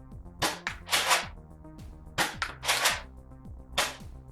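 A toy Star Wars First Order stormtrooper blaster fires in a quick irregular series of about eight sharp electronic zaps, each a bright burst over a descending synthetic sound effect, loud and close with no talking.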